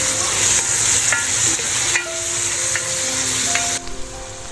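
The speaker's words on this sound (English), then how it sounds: "Time to add the vegetables, carrots, beans and spring onions. Add the tomato pieces and mix it." Carrots, beans, spring onions and tomato pieces are stir-fried together in a pan, giving a loud, close, continuous sizzle with repeated scraping and stirring strokes throughout.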